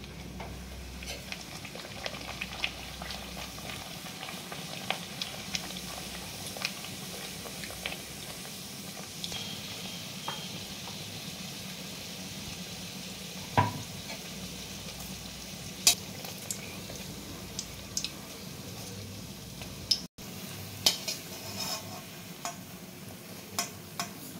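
Stuffed luchi, puffed flatbread filled with chhena, frying in hot oil, giving a steady low sizzle with scattered small pops and crackles throughout, moderately quiet and with no talking.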